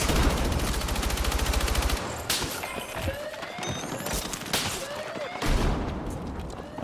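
Gunfire in the video game Battlefield 6: a dense automatic burst for the first two seconds, then scattered shots, whizzing rounds and crashes, with another heavy burst near the end.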